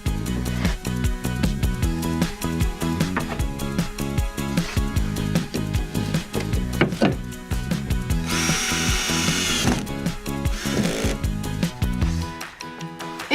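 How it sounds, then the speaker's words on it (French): A power drill drives screws through a BA13 plasterboard joint into wooden battens. The motor whirs loudly and up close in repeated bursts, rising to a high-pitched whine near the end. "maintenant il n'y a plus qu'à visser le raccord de BA13"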